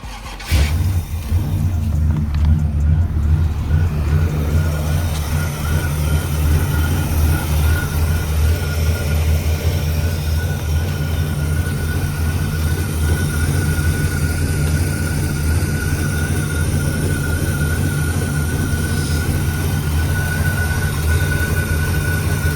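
A Chevy engine fitted with a new Summit alternator turns over and settles into a steady, loud idle that runs continuously close by, with a constant low rumble and no talking.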